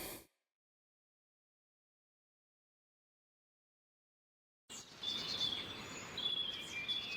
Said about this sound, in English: The sound of birds and foxes from outside of the manse's walls